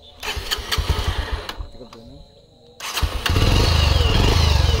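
A 2021 Pulsar UG-7 motorcycle engine chugs, cuts out briefly, then starts and settles into a steady, loud idle close by, with someone talking over it at first.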